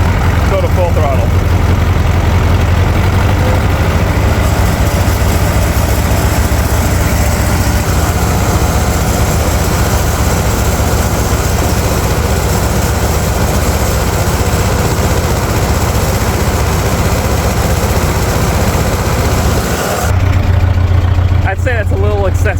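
A 1940 Ford 9N tractor engine held at full throttle, a loud, steady low rumble that runs nearly unbroken for the whole stretch, close by, with only a brief dip near the end.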